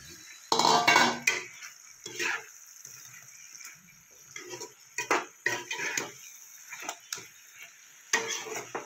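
Fried flat beans are tipped into a pan of mustard-poppy masala, with clattering utensil scrapes and metallic clinks against the pan coming in irregular bursts, close and moderately loud.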